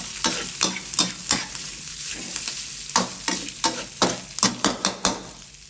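Pork belly stir-fried with garlic in a pan: a run of sharp, rhythmic spatula scrapes and strokes over a steady close sizzle, with no talking.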